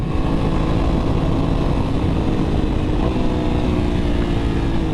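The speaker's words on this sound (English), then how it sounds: "that exhaust sounds great" A 2021 Aprilia RS 660 motorcycle engine rumbles steadily and loudly up close, its deep exhaust drone holding constant throughout with no voices.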